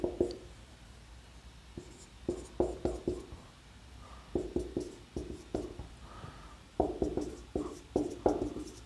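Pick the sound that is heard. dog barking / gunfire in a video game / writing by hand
writing by hand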